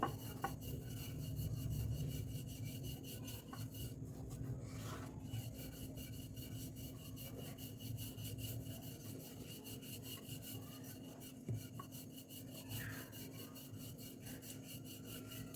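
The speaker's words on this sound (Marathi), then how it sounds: "अशी मस्त लाटून घ्यायची आणि पोळीच्या कडा पण व्यवस्थित लाटून घ्यायच्यात" Mango puran poli flatbread dough rolled out with a rolling pin, giving a steady soft rubbing and scraping that runs unbroken through the whole stretch, close and fairly quiet, with no talking.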